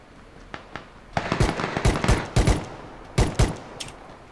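Gunfire in the battle royale game PUBG: a ragged series of sharp shots, some in quick pairs and short bursts, with a couple of faint distant pops before a louder cluster close by.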